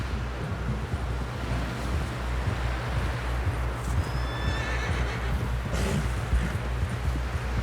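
Horse hoofbeats from Red Dead Redemption 2 thud in a steady galloping rhythm, joined by whinnying bursts and a breathy wind-like rush, close and fairly loud throughout.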